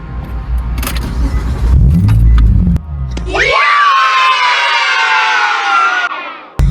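A car fitted with an aftermarket exhaust, heard on a short test run: a low rumble, then a loud, steady, rising engine drone close by that holds for several seconds before cutting off.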